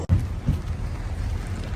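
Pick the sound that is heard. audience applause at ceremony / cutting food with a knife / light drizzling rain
light drizzling rain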